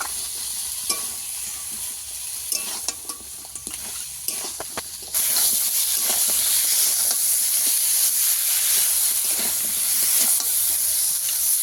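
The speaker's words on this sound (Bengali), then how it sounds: "একেবারে মশলার মধ্যে দিয়েই ভেজে নিলাম" Sea crab frying directly in spice masala, a close crackling sizzle with spatula stirs that swells into a louder, hissing fry partway through, with no talk.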